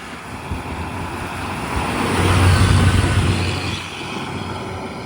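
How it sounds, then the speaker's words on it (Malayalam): A bus heading to Nainativu passes along a road near the water in the Jaffna area of Sri Lanka, its engine rising to a loud rumble and then fading away over a few seconds, with wind in the background and no speech. "നൈനാദ്വീപ് ഭാഗത്തേക്കുള്ള ബസ്സാണത്."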